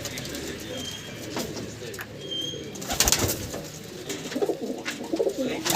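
Pigeons in a loft of high-flying birds coo softly and repeatedly, low murmuring calls that sit under a steady background hum with a few brief rustles.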